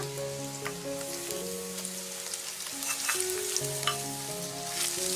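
Onion frying and being stirred in a pan: an even sizzle with occasional scraping stirs, running under steady background music.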